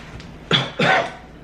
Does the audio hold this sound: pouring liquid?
no